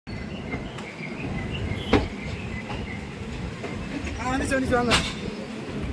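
The Chennai–Nizamuddin Rajdhani Express runs behind an electric locomotive: a continuous rumble of rolling wheels with rhythmic rail clicks and brief squeals, steady and fairly close, with no talking.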